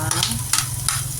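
Garlic hitting a hot oiled pan alongside ginger and onion, a brief close sizzle broken by a few quick stirring scrapes.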